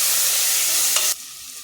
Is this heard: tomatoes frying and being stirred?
yes